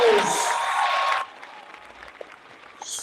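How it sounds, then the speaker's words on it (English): A short burst of applause from a small group at a church Black History Month event fills the opening second, then fades into quiet room noise with a few scattered claps. "Let's give him a round of applause."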